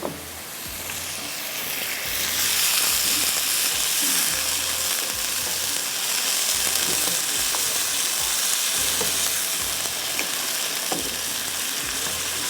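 Beef mince and onions sizzle steadily in a pan after a splash of water, a loud, continuous hiss with a faint rhythmic low thump beneath and no voices.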